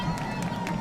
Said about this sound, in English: Band making noise, crowd making noise.